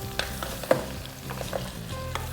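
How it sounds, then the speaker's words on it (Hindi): Chopped carrots roasting in desi ghee for pressure-cooker gajar ka halwa, a soft, steady sizzle with frequent light clicks and scrapes as a spoon stirs them in the pan. "घी के अंदर अब इन गाजरों की 2 से 3 मिनट के लिए होगी भुनाई"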